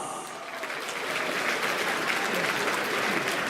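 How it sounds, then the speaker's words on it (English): A large audience breaks into a big round of applause at a lion and dragon dance event, a steady wash of clapping that swells and stays loud throughout. "give them a big round of applause"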